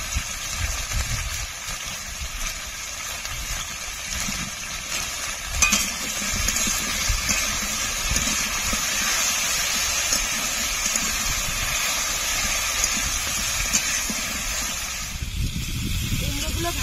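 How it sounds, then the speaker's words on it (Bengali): Mixed vegetables sizzle and hiss steadily in a pan with oil, salt and turmeric, a dense continuous frying noise with occasional stirring clinks and someone talking over it. "এই সবজিগুলো ভেজে নেব"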